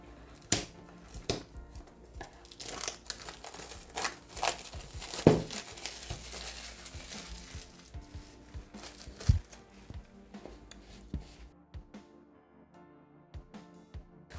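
Crinkling and tearing of packaging as a box of Boult Z40 Pro earbuds is opened, with scattered sharp rustles, taps and crackles, close and fairly quiet, then near silence at the end.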